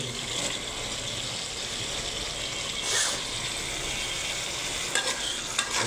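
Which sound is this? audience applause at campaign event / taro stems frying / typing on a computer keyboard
taro stems frying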